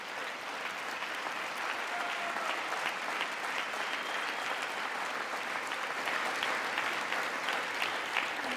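Sustained audience applause fills a large chamber during a State of the Union address, a dense, steady wash of many hands clapping at a constant level throughout, with no talk over it.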